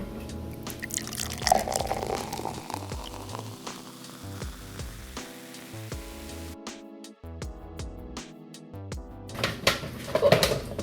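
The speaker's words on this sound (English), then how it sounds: "so I'll be pouring that into the coffee machine" Water trickles and splashes steadily as it is poured into a coffee machine, close by, with faint clinks and drips and no talking.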